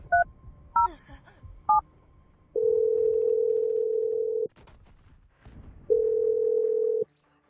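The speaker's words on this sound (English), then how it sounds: "So let's just dial up Ashley and find out." Telephone dialing: a few short key tones at the start, followed by two long steady ringback tones separated by a brief pause, clear and alone with no talk.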